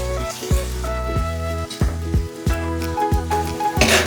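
Tomato gravy made from two small tomatoes sizzles and bubbles in a pan with okra and prawns, a steady frying hiss broken by repeated soft squelching pops and spattering, close and fairly loud.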